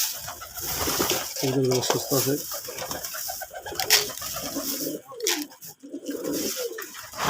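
Domestic pigeons coo in low, throaty phrases close by while someone speaks briefly over them, with bits of rustling and clatter around the coop.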